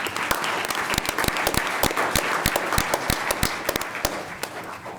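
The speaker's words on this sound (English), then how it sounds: "You guys can clap for them too," An audience at a city council meeting claps for the state champion high school team, a lively mix of many hands with distinct louder individual claps standing out over a steady crowd patter.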